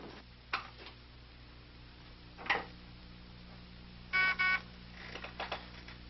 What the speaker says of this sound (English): Get me Charlie Wyndham on the phone